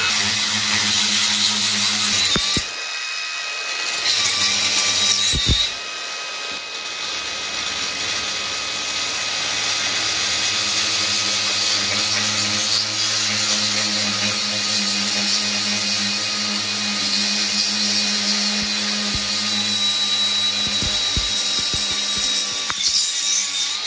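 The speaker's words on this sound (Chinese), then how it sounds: "接下来我们打孔。 打孔的时候要加水" An angle grinder fitted with a core drill bit bores holes with water added, a loud continuous grinding drone with brief pauses and restarts near the beginning, then a long steady cut, with no talking.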